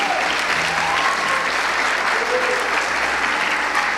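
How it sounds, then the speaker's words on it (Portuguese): A church congregation gives a round of applause for the Lord Jesus at an Easter Resurrection Day service, dense sustained clapping from many people at constant loudness, with faint voices underneath. "Dê uma salva de palmas ao Senhor Jesus."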